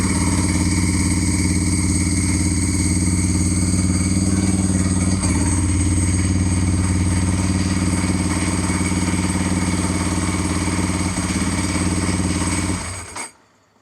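A motorcycle engine runs steadily after its battery was replaced with a cheap $30 unit, a loud, close, even idle drone that holds for most of the stretch before cutting off abruptly near the end.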